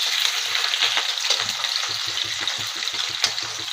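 Onions fry in hot oil with a continuous hiss, broken by repeated soft scraping strokes as they are stirred, close and fairly loud.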